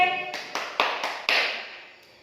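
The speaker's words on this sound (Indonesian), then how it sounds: "Tepuk tangan buat Andre." A handful of sharp, separate hand claps from a classroom in an Indonesian Christian religious education lesson applaud a student named Andre. They are close and quick, then fade out within a couple of seconds.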